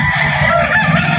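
A rooster, a bullstag or cock gamefowl for sale at the Bocaue pet market in Bulacan, crows once, loud and close, in a single sustained call that fills the whole moment.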